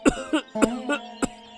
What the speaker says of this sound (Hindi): इतनी खांसी हो रही है और तुम दुकान में खड़े खड़े लोगों की सेवा कर रहे हो।